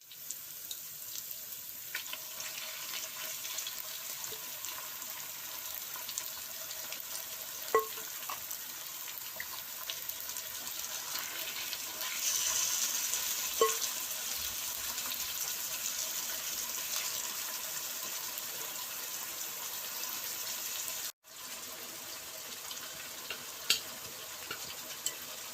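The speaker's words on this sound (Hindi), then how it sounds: "अब हम इसमें मैरिनेट की हुई चिकन डाल देते हैं।" Marinated chicken sizzles in a pan with cooked onions and tomatoes for tikka masala, a steady soft frying hiss with occasional scraping stirs and light clinks, close and continuous, with a brief dropout near the end.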